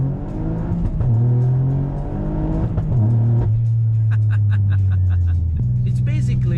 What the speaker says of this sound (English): also hear how quickly I can shift gears